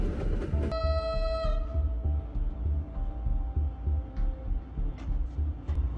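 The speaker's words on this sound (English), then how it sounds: "a narrow street lined with old houses where trains still run through" Train rumbling through a narrow street lined with old houses in Hanoi, Vietnam, a loud steady rolling drone with a brief horn-like blast near the start.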